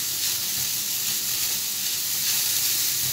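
Carrots being sautéed in a pan for a Turkish carrot salad, a steady, bright sizzle and frying hiss that stays constant and close with no talk over it.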